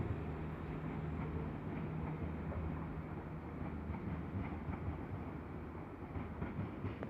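A train rumbles steadily past at Chester station, faint and continuous with light clickety-clack from the wheels over the rails, heard alone without talk.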